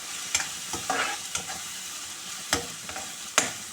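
Tomatoes sautéing in a pan for a millet upma: a steady sizzle punctuated by several sharp, irregular spatula scrapes and knocks against the pan. No talking.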